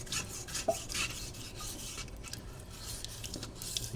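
An IKEA knife is dragged across a sharpening stone under firmer pressure to raise a burr, making soft repeated rasping strokes, close and fairly quiet.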